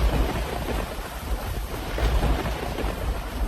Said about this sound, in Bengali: সেদিন রাত থেকে মুষলধারে বৃষ্টি শুরু হয়।